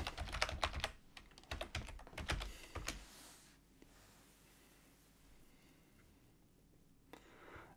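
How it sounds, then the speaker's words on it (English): Quick clattering keystrokes on a computer keyboard for a few seconds as an email and password are entered, then near quiet with a single later tap, close and soft, no talking. "type in my my email account and my password"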